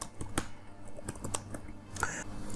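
Someone types a Java program on a computer keyboard, with quiet, irregular clicks and a few sharper key strikes over a faint background hum.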